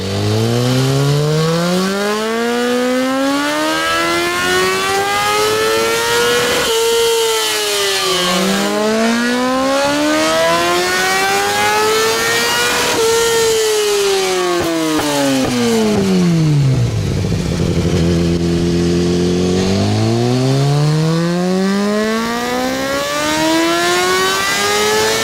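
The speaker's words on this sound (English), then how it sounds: "here's the sound of the HP4 Race, which is essentially the predecessor to the M with the same inline-4 layout." A BMW HP4 Race inline-four superbike engine revs up and down repeatedly, a loud, close, high-pitched wail that climbs and falls in long sweeping bursts with no pause or talking.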